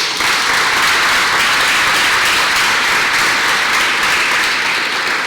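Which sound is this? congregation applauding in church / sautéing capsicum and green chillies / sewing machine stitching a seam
congregation applauding in church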